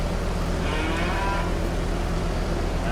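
Cattle lowing in the Calmsden farm of the video game Farming Simulator 22, a drawn-out moo over a steady loud ambient background, with no talking.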